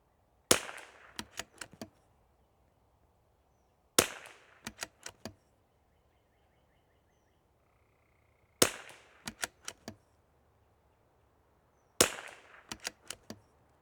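Rifle shots from an IBI Deuce 2.0 or Vudoo 360 at an outdoor range crack out in four evenly spaced groups, each sharp report trailed by several quick echoing taps, with quiet wind between.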